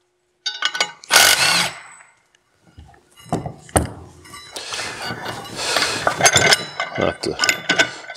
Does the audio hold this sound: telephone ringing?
no